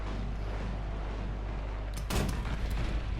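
Tank shells striking an SU-85 casemate tank destroyer in War Thunder, a sharp loud impact burst about two-thirds through followed by a second smaller hit, over a constant low engine rumble.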